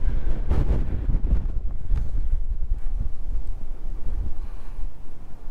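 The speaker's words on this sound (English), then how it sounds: "with the wind blowing as strong as it is" Strong gusting wind buffets the microphone at Union Grove Park on Stillhouse Lake in Texas, a loud, uneven low roar that surges in heavy blasts and briefly eases.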